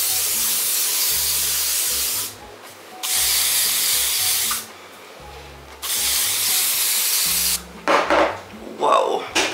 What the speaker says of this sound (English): Let's spray some shine spray all over.